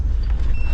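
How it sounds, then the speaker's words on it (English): A car's tire pressure monitor alarm sounds at a La Posa South long-term desert campground near Quartzsite, triggered by cold tires: faint, thin high electronic beep tones ride briefly over a steady low rumble. "my tire pressure monitor is going off because the tires are cold"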